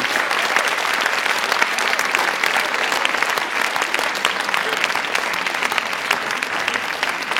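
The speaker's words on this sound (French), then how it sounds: "Nous pouvons les applaudir." Dense, sustained applause from an audience at a high school literary prize award ceremony, loud and even throughout with no pauses.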